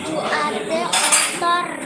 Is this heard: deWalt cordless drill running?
no